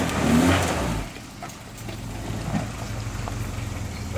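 Jeep engine off-road at Rausch Creek revving as the driver gives gas, a surge of throttle up front then an uneven mid-pitched idle and rev with faint rattles.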